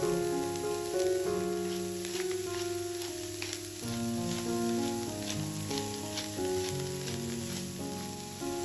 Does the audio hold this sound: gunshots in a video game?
no